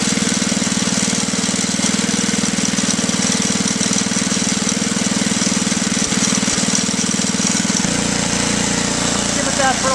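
A Toro 524 snowblower engine idles steadily while warming up in cold weather with the impeller disengaged, a loud continuous mid-pitched chug close by that shifts slightly lower near the end.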